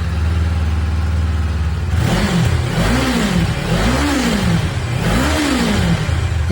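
A Kawasaki Ninja 500 motorcycle with its stock exhaust idles close by, then revs three times in rising and falling sweeps, loud and alone.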